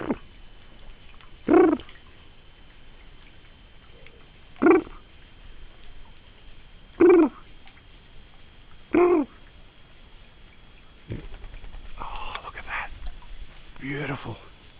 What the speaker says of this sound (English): Yeah, it's some sort of pigeon.